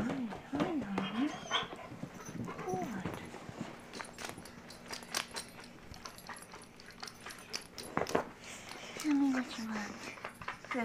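A dog whimpers and makes drawn-out vocal whines indoors near a couch, a few wavering cries at the start and end with soft shuffling and a person talking in between.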